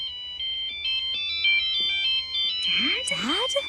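A telephone rings with a repeating electronic ringtone in steady bursts as a call to a father is placed, loud and close, before a voice briefly cuts in near the end.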